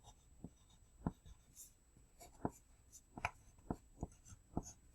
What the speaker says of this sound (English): we're going to write I am thankful